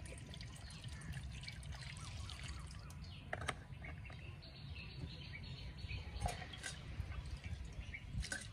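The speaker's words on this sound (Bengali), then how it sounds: "জল দিয়ে ধুয়ে নিই" Water trickles and splashes softly as a raw mango is washed, a low, steady wash of dribbling liquid with occasional small drips, with birds calling faintly in the background outdoors.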